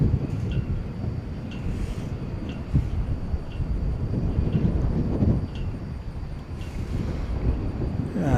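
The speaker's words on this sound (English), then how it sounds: "you can see that it's definitely a breezy evening here at the big airport" Breezy night wind at DFW airport buffeting the microphone, a constant loud broadband rush with faint distant tones and rumbles beneath, no voices.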